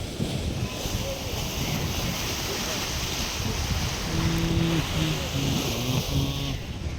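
Waves crash hard in the rain, making a loud, continuous roar of surf mixed with heavy wind buffeting, and a few faint tonal sounds rise near the end.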